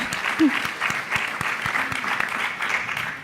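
At the Sojourner Truth Legacy Project town hall, ALC 2018, an audience breaks into sustained, even applause, a continuous wash of many hands clapping at moderate loudness for the full few seconds.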